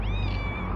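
A cat gives a single short, close meow with a rising then falling pitch.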